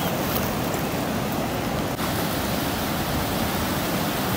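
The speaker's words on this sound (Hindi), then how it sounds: "सीवियो का पानी इतना चढ़ा हुआ तो देखिए पानी की स्पीड कितनी तेज़ हो रही है" Fast-moving high sea water at Sea View beach, a loud, unbroken roar of surging waves and rushing surf close by, steady throughout with no voices.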